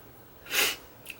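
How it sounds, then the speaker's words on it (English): A single sneeze bursts out at close range, a sharp breathy blast followed a moment later by the start of another sharp intake or burst, with no talking. "I had a little sneeze attack."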